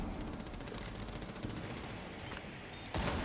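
A K1A rifle in Rainbow Six Siege, used by Vigil, fires in rapid automatic bursts, a dense rattling stream of shots at moderate volume that swells briefly near the end.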